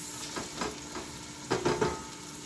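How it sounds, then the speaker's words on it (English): Chopped vegetables including onion sautéing in a pan as the base for an octopus stew, a soft steady sizzle with a few stirring scrapes close by, no talk. "And I'm going to saute this for 1 or 2 minutes in here."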